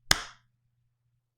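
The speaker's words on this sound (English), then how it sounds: "Let me know when you hear the clap" One sharp hand clap, close and loud, with a short decaying room tail and silence afterward.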